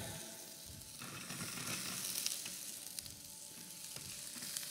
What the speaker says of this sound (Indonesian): Dan seperti ini ditumis dulu sampai matang.